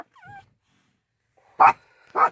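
Small dogs inside a van, a brief high whimper followed after a pause by two sharp close barks.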